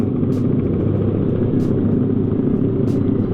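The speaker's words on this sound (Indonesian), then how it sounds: "Suara knalpot mereka keras-keras banget ya." A steady, loud low rumble of passing motorcycle exhausts fills the scene, droning continuously without pause, during a group ride through Purwokerto, Indonesia.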